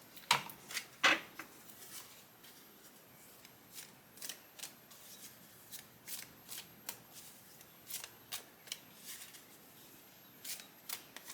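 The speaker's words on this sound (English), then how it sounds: "So I'm pulling the star seed cards." Star seed oracle cards are handled and shuffled close by, a quiet sequence of soft riffling flicks and slides in irregular bursts, with a couple of sharper card snaps near the start.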